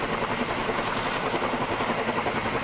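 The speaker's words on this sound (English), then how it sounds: "It's a helicopter." A helicopter hovers while setting a footbridge onto two trail abutments during an emergency repair on the Moloka'i Pali Trail. A steady, dense engine and rotor roar continues throughout at a constant level.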